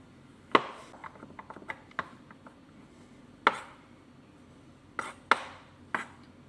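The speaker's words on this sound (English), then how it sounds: "chop the chocolate into tiny little pieces" A knife chops dark chocolate on a cutting board in sharp, scattered knocks, a few loud thuds among softer taps, with quiet gaps between.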